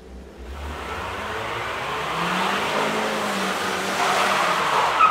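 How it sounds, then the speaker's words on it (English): A zipline runs in a video game, giving a continuous rushing, whirring roll that builds gradually over several seconds with a steady broadband hiss and low rumble, with no talk over it. "Time to start the zipline."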